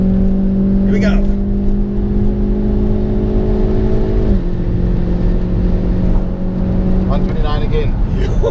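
A hatchback accelerating hard around a race track, heard from inside the car as a loud, steady engine drone that drops in pitch at one point, like a gear change, then keeps pulling.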